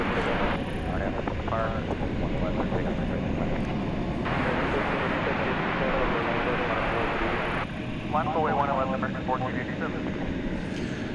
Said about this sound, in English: American Flight 2628 to Omaha, Nebraska. It's a 737-800.